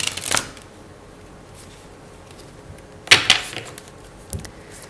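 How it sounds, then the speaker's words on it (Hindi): Tarot cards riffle and slap in short, crisp bursts during a card reading, with a first shuffle near the start and a louder cluster later, separated by quiet pauses. "सो देखते हैं, 2 और कार्ड्स हम लेते हैं आपके लिए."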